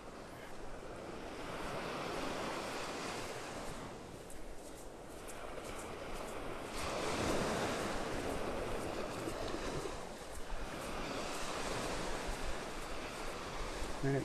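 Gulf waves at Vanderbilt Beach in North Naples, Florida, rolling ashore in slow surges with wind buffeting the microphone, a wide steady wash that swells and eases, no voices.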